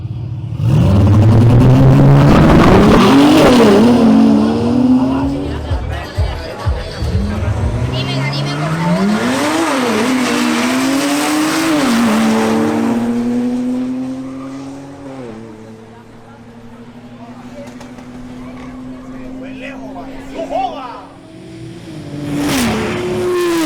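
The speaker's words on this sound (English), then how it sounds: "Now, Juan Trejos makes a new pass in his BMW M240i xDrive." A BMW M240i xDrive launches down a drag strip, engine roaring loud and close as it climbs through several gear changes, revs dropping at each shift, then fading as it pulls away before another car noise rises at the end.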